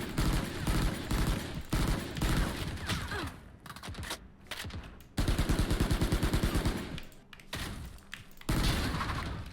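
Bursts of Bulldog rifle fire in a Valorant match, a rapid steady volley near the middle and another at the end, with faint keyboard clatter between.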